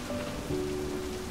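Steady rainfall patters evenly onto the ground as a continuous hiss, moderately loud, with a faint low hum beneath it.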